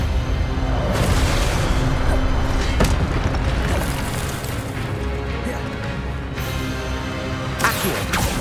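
Hogwarts Legacy spell blasts while fighting giant spiders, loud booming impacts and crashes layered in a dense continuous barrage, with a voice calling out underneath.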